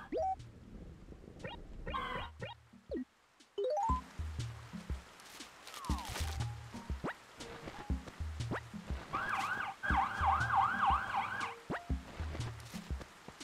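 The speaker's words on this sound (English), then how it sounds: "I'm sorry if you guys hear the sirens, by the way, going by." The warbling sirens of passing emergency vehicles rise and fall in the distance for a few seconds, faint beneath a jumble of clicks, music and game noises.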